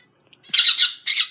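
Pet bird squawking close by, with two harsh, loud, shrill calls, the first longer and the second shorter, and no talking.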